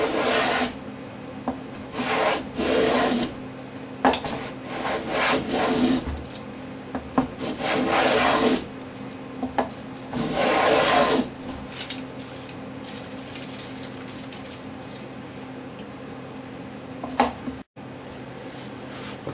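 Wooden back braces for a handmade guitar being shaved down by hand, heard as long, close rasping strokes that come in bursts with short pauses between them, loud and steady with no speech.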